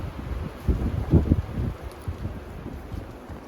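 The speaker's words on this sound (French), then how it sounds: "Il y a beaucoup de vent, je ne sais pas si vous allez bien m'entendre." Strong outdoor wind buffets the microphone along a garden path, with low rumbling gusts that swell and ease in uneven bursts, loudest around the middle and settling into steady blustery noise.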